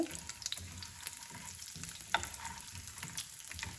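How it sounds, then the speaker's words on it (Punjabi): Cashews fry steadily in a pan for a semolina idli snack, giving a faint, continuous sizzle with a few brief clicks of stirring and no voices. "ਕਾਜੂ ਪਾਤੇ ਤੇ ਇਹਨੂੰ ਅਸੀਂ ਫਰਾਈ ਕੀਤਾ"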